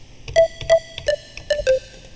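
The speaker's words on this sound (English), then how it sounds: "So I have this pluck that I made." A plucked synthesizer tone, a preset from the Harmor synth, plays five short notes in a soft melodic phrase, each bright attack fading quickly, clean and close.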